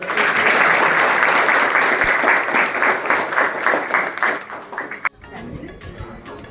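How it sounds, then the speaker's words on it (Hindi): School students in a high school applaud loudly together, dense rhythmic clapping that fades and stops abruptly after about five seconds, leaving quiet room noise. "चलो भाई सब लोग ताली बजाओ एक बार।"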